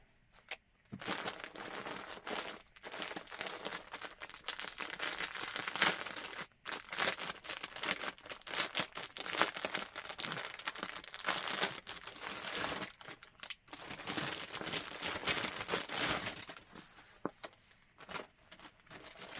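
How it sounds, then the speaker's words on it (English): Resealable plastic bags holding yarn being handled nearby, producing continuous close crinkling and rustling with irregular bursts and short pauses for nearly twenty seconds, with no talking. "These resealable bags are so nice. They keep my yarn nice and neat and tidy."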